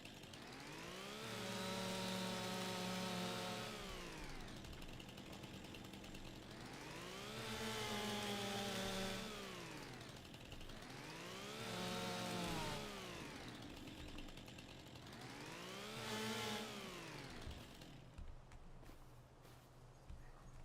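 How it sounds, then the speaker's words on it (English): A chainsaw in Farming Simulator 25 cuts a tree in four long revving passes, each swelling up in pitch and then easing back down, loud and close, with a brief quieter idle between cuts. "Get our chainsaw back out. Let's cut this one up too."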